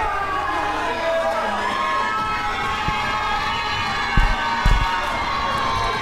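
A wrestling crowd at the Fairfield County Fairgrounds cheers before a tag team match, a loud continuous roar with a few louder thumps and whoops rising out of it.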